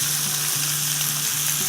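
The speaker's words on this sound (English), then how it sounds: "I'll let this cook up for a little bit till I brown the pork really nice." Pork browns in a pot of chili with a Thai twist, giving a continuous, even close sizzle with a faint low hum underneath.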